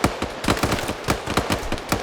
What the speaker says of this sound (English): And I think they're putting double tapping rounds on him as well